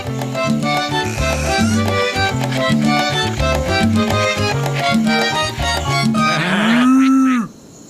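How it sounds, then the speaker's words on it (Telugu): Several farm animals in a barn, moos among them, calling over one another in a dense, loud, rhythmic chorus of bleats and lows, ending in a long drawn-out moo before falling silent. "గిడ్డంగిలో చాలా జంతువుల శబ్దాలు వినిపిస్తున్నాయి."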